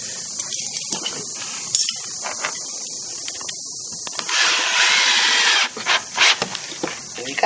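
Cordless drill driving screws into drywall during a damage repair, heard as a few short, close whirring bursts with a longer steady run midway and grinding, scraping handling noises in between.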